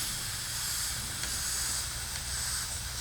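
Compressed air hisses steadily from a cracked fuel line on an older Stihl chainsaw, a continuous close, bright leak sound with a low rumble underneath and slight tonal shifts partway through.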